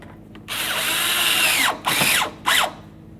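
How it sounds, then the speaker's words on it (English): A power tool drives in a headlight mounting bolt on a 2007-12 Dodge Caliber, whirring close and steady for over a second, then giving two shorter bursts as the bolt snugs up. "Start it in the hole there, and we'll snug it up."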